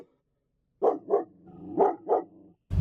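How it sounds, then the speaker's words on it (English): A dog barks at a paper bag four times in two quick pairs, close and fairly loud, with a short pause between the pairs. "He's literally barking at that paper bag."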